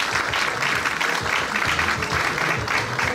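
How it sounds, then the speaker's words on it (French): Gala audience at a charity evening in Brussels giving a full, continuous round of applause ahead of the show, loud and steady from start to finish. "Est-ce qu'on peut applaudir le show qui va démarrer dans quelques instants"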